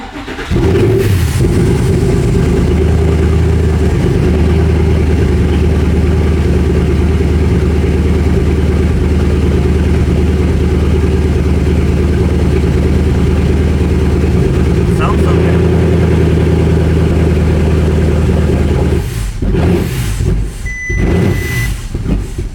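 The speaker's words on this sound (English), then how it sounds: "I will try to start the car again and run it for a while" An abandoned Porsche's engine runs steadily and loudly for a long stretch, a rough continuous idle hum that shifts slightly near the end.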